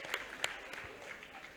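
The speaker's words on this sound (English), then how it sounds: "Clap for Nigeria." Applause from a conference audience at a public relations forum, a brief burst of clapping with a few sharper claps, moderately loud and continuous over the short span.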